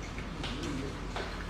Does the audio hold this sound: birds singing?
yes